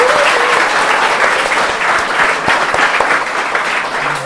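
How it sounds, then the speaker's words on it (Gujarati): An audience claps loudly and steadily for a game winner, dense sustained applause from a crowd close by, with no voices standing out. "ખરેખર જોરદાર તાળીઓ થવી જોઈએ"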